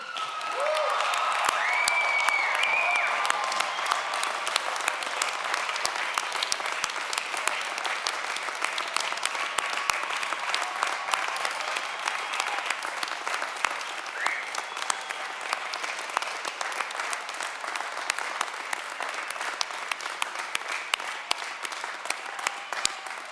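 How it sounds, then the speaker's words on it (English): A large commencement crowd gives sustained, vigorous applause for graduates, a dense even roar of clapping with scattered cheers and faint voices that runs for over twenty seconds. "I ask you to all join me in one vigorous round of applause for every graduate today"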